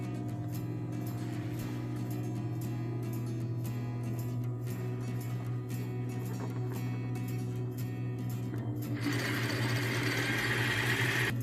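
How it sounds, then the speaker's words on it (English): A sewing machine runs steadily, stitching a 1/4 inch seam along a long fabric tube, a continuous mechanical hum with rapid needle ticking that grows louder and brighter near the end. "I'm going to use a 1/4 inch seam, and I'm going to sew this"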